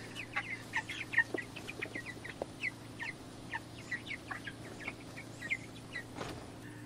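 Chickens cluck and squawk at a single feed trough, short sharp calls popping up at irregular intervals over a low, steady background hum, fairly faint and with no talk.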